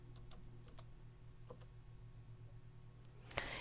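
A computer mouse clicks a few times during quilt-design work in EQ Stitch software. The clicks are faint, sharp and sparse in a quiet room, and one louder click comes near the end.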